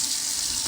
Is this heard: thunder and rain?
no